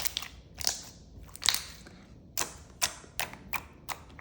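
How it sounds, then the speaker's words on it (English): Clicky slime squished and played with by hand, giving a series of sharp, close wet clicks and pops in irregular bursts, about eight distinct snaps with quiet gaps between, no talking. "This slime is super clicky, and I love that."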